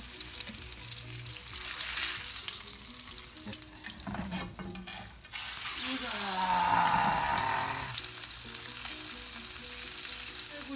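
Mackerel frying in a pan, a close, steady sizzle throughout that swells louder midway, with some clattering and watery sounds in between.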